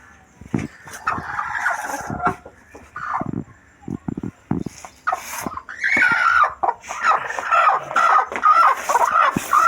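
A brooding hen sitting on eggs gives repeated close clucks and throaty murmurs in irregular bursts, with short pauses between calls.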